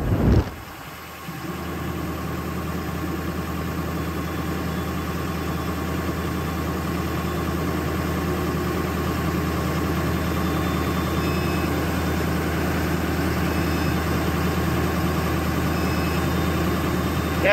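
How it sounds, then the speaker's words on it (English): A car engine idles steadily with a low, constant rumble and hum, close by, while powering a VEVOR 3500-watt inverter, after a brief bump at the start; no one speaks. "the engine running now"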